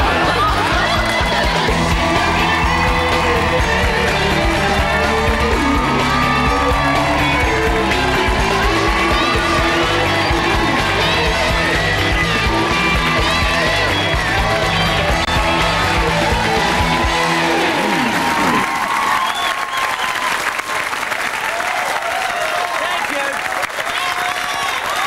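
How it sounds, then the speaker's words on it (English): A live television studio audience cheers, whoops and applauds loudly and continuously for about eighteen seconds before the noise cuts off sharply, leaving quieter room sound at the end. "When the applause goes too long, I get suspicious."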